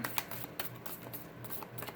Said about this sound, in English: Let me just finish this shuffle out.